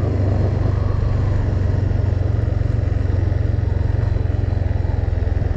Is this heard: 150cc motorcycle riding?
yes